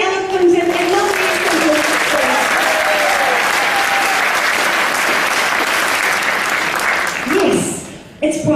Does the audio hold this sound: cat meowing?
no